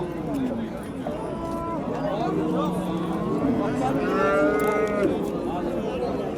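A one-year-old bull calf moos repeatedly at a busy cattle market in Qashqadaryo, Uzbekistan. The calls are loud and close, rising and falling over constant crowd chatter and nearby voices.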